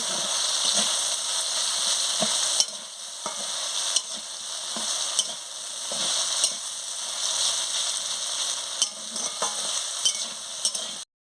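Dal lentils frying in a pan, a steady bright sizzle with intermittent scraping and stirring clicks from a utensil, close and continuous with no voices.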